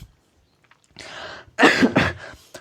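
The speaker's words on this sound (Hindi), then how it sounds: "थोड़ी सी खांसी हो गई कल ही से" A person coughs in a class-lesson setting: a soft breathy lead-in, then two or three harsh, close coughs in a quick cluster, loud and alone without talk.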